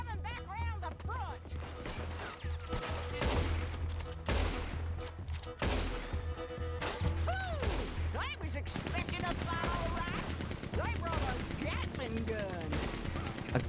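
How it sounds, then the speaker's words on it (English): Heavy automatic gunfire from a Gatling gun in Red Dead Redemption 2 rattles on through a gunfight, with dense bursts and booming shots. Voices talk over the shooting. "They brought a fucking Gatling gun?"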